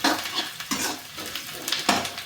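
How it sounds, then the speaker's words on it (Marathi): Chopped onion sizzles in a generous amount of oil in a pan, with short stirring scrapes and clinks of a utensil over a steady frying hiss. "इकडे कांदा फ्राय होता."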